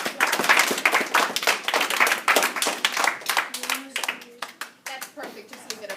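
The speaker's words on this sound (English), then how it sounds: "All right, give that group a round of applause." Scattered classroom clapping for a group of students, a loose cluster of individual hand claps that thins out toward the end, with children's voices chattering underneath.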